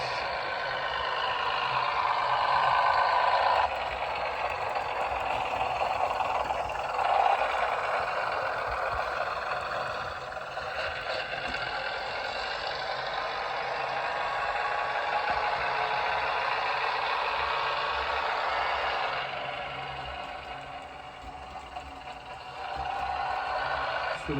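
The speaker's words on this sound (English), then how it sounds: "Have a listen to that clickety clack." Bachmann Class 101 DMU model train running with sound, a steady rumbling engine drone with faint rhythmic rail clicking underneath, continuous and fairly loud throughout with slight swells.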